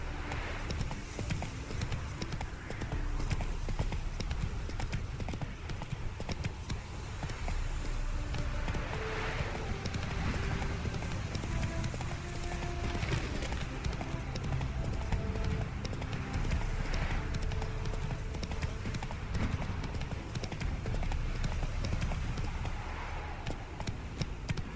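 Hooves of Roach, the horse in The Witcher 3, clop in a fast, steady rhythm through the whole stretch, a continuous galloping patter with game ambience beneath and a brief whinny.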